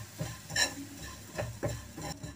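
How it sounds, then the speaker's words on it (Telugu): Fried fennel seeds being stirred into sugar syrup in a pan over a low flame, a few soft scraping and clinking strokes of the spoon spaced irregularly, faint and close, with no talk. "ఇప్పుడు 1 స్పూన్ పంచదార పాకం వేసి వేస్తూ ఉండాలి లో ఫ్లేమ్లో"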